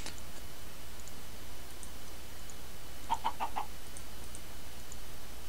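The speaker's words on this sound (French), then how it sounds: "J'entends des petits poulets." Minecraft chickens giving a quick run of four short, clicky clucks partway through, faint and small over a steady background hiss.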